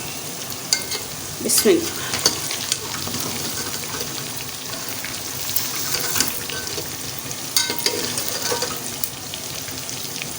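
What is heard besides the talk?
onions frying in ghee after roasting okra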